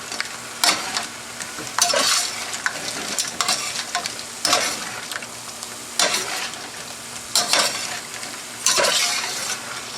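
Paste being stirred into sizzling lobster Cantonese in a hot pan, with steady frying hiss broken by repeated scraping strokes and clinks of a utensil against the pan about every second or two, close and clear with no talking.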